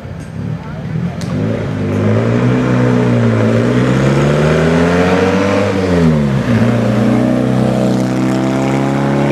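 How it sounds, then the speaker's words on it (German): A Porsche race car climbs a hill-climb course, its engine revving loud and close, rising and falling through gear changes before holding a steady high drone; a commentator talks over it. "So, da Kurt Porsche mit seinem Porsche jetzt unterwegs aus Nesselwang in Deutschland."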